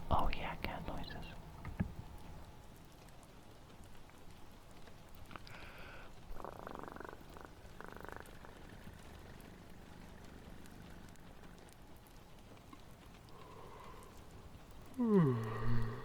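A whispering voice imitates a cat with soft meows and purring sounds, close and quiet in an intimate ASMR setting, with a brief louder rising meow near the end.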